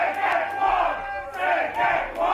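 A wrestling crowd at a championship match roars and chants in rising and falling waves, a loud, dense mass of voices that swells, dips briefly, then surges again.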